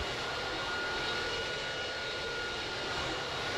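An airliner takes off in the Pilot Training Flight Simulator game, a loud continuous jet engine roar that holds steady throughout with no talking.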